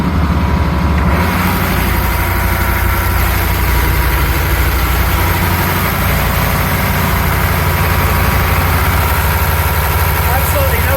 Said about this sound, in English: The engine does definitely run smooth.